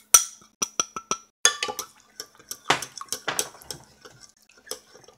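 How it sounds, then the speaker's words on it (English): Bulla flour is stirred with water in a pot or bowl, giving sparse, close clinks and taps of a utensil against the dish with soft wet sloshes between them. "We'll mix the bulla flour with the water."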